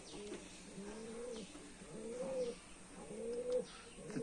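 Pigeons coo nearby in soft, repeated rolling calls, a few phrases in a row over quiet background, with faint chirps mixed in.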